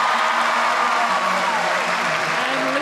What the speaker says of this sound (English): Listen to the crowd here at John Cain Arena.